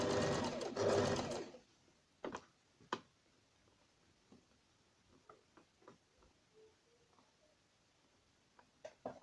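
A sewing machine runs in a quick close burst while gathering a t-shirt into small frills, then stops, leaving sparse soft ticks and clicks of the machine and fabric handling.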